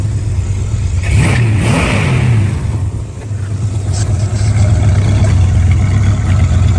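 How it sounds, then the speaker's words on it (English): An original C-code classic muscle car gets a blip of throttle, its engine rising from idle into a brief rev, dipping, then settling back into a loud, close idle rumble. "Give it a little gas."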